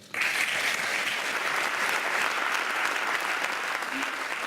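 Sustained, even applause fills the Galician parliament chamber as Alberto Núñez Feijóo is proclaimed president of the Xunta de Galicia, a sharp onset followed by a dense, steady roar of clapping from many hands.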